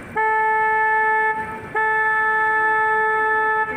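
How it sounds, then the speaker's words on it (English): A car horn blares in two long, loud honks, the first a little over a second, a brief gap, then a longer second blast. "Alright guys, I gotta honk my horn, hold on."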